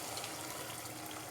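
A glass of water poured into a cooking pot of beef stew after the yogurt liquid has dried off, a steady close splashing gush that fills the whole moment alone.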